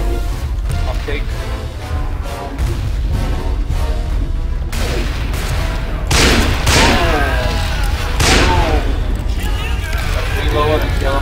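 Bursts of gunfire in the Western shooter game Call of Juarez: Bound in Blood, loud and repeated shots with booming reports, laid over constant game sound and a voice talking throughout.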